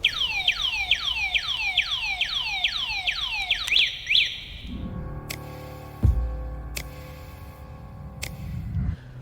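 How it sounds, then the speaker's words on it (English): A Sondors Metacycle electric motorcycle's anti-theft alarm sweeps down in loud rapid repeated wails, then switches to sharp beeping pulses, with some low rumbling underneath. "if anyone disturbs the bike, the alarm will go off"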